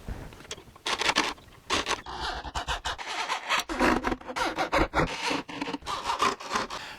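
Woodworking clamps are unscrewed and pulled off a wooden furniture frame, giving a close run of scraping, rubbing and ratcheting bursts with short pauses between them, and no one speaks.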